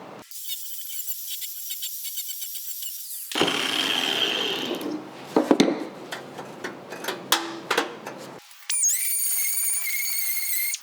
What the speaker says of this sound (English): Grind off these tacks and see if it pivots.